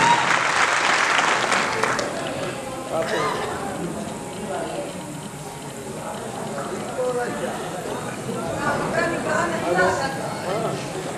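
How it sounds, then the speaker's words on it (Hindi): An audience at a Bagheli-language comedy show breaks into a loud burst of clapping for about two seconds, then the applause fades under a performer's continuing speech. "जोरदार ताली हो जाए"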